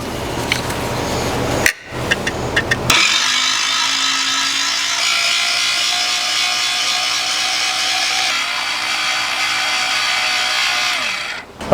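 A shredder machine grinding blocks of pepper jack cheese, a loud steady mechanical whirring drone after a few sharp clunks and a brief pause, running on without talk.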